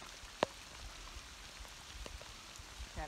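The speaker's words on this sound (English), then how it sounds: "it's raining proper now" Rain falls steadily during a fishing trip, a soft, faint hiss with scattered light drops and one sharp nearby tap.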